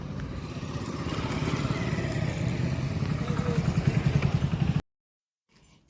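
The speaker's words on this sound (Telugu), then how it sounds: "సడన్గా ఇప్పుడు ఒక ఫ్యామిలీ వచ్చి బైక్ ఆపింది." A motorcycle rumbles close by on a sunny village road, its engine running steadily and pulsing more as it slows toward a stop, with voices faintly under it before the sound cuts out.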